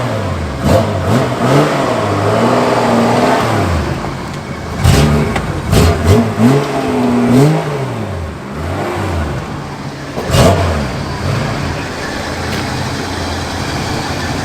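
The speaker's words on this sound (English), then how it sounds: "Yeah, manual V12 Jaguar XJ-S sounds pretty good." Manual V12 Jaguar XJ-S, a modified car with the 5.3-litre V12, revving at an evening car meet: loud, close engine rising and falling through repeated blips and pulls, with outdoor background noise and no clear talk.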